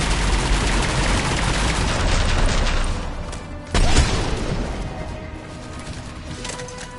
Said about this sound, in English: We still got Cerberus shooting.